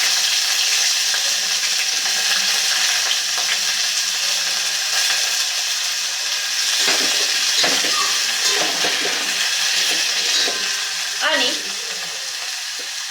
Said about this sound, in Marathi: तूप वितळायला लागलं की त्यामध्ये रताळ्याचे काप घालून घेऊयात